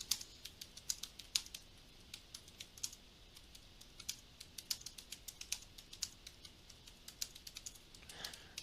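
Steady, quick typing on a computer keyboard as a field description is entered, a close run of light key clicks with a few louder taps, alone and fairly quiet.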